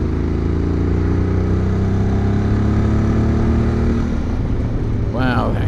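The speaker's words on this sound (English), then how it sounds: "Wow, that engine's got some poke" QJ Motor adventure motorcycle engine droning steadily and loud throughout at close range on a wet road, holding a sustained rising note as it pulls through the gears, with a brief higher whine near the end.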